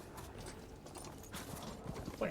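Metallic hoof clip-clop of a machine horse mount in the video game Horizon Forbidden West, a steady rhythmic trot with faint mechanical clanks and whirs under game ambience.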